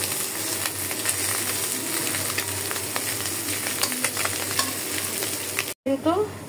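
Puti fish sizzling and frying in a pan, a steady dense crackle with scattered pops and light stirring, briefly cut off near the end before resuming.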